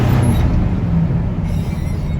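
A truck with a 454 engine pulling in second gear, a loud, steady low rumble of the motor running continuously close by with no break.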